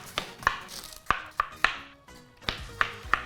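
A knife chops an onion on a cutting board: about nine sharp, separate thwacks in an uneven rhythm, close and clear, with no talking.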